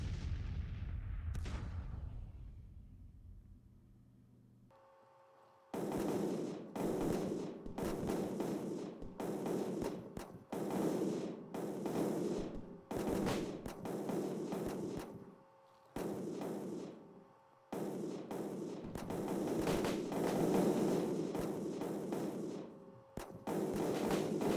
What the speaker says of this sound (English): A lot of artillery pounding, probably not that effective